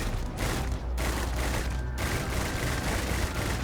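Rapid rifle fire in the sci-fi video game Starfield, a dense, loud, continuous barrage of shots with brief dips in rhythm, close and unbroken throughout.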